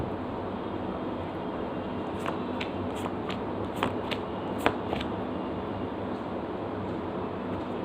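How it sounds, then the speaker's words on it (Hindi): Tarot cards being shuffled and drawn during a reading, heard as a run of soft papery riffles and flicks clustered in the middle of the clip over a steady background hiss, with a couple of sharper card snaps. "अब खोलते हैं एक्वेरियंस का कार्ड।"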